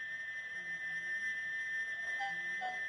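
A steady, high-pitched steam locomotive whistle tone holds continuously throughout, fairly faint and constant, with no speech.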